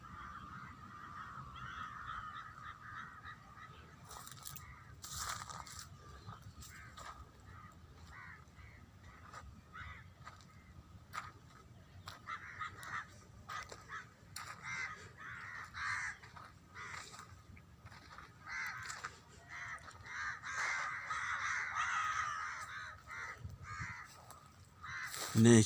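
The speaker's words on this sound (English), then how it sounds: "bird sounds and noises." Crows caw repeatedly outdoors amid other bird calls, the harsh calls coming at irregular intervals over a faint background and growing busier toward the end.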